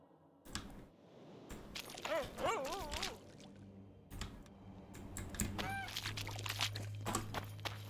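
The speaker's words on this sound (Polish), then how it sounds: "A tutaj, zachwycające gęsi." Goose honks in The Witcher 2 video game, a few wavering calls in quick succession, sound amid clicking and a steady low electronic hum, with game noises throughout.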